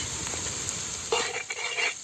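Shallots and onion sizzle steadily in a pan for a Kerala crab roast, with a soft stirring scrape and light clinks of a utensil against the pan partway through.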